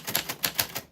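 Names are typed on a typewriter: a quick run of about six crisp key strikes in uneven rhythm, close and clear, with no talk.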